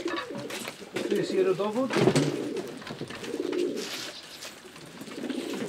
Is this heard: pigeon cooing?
yes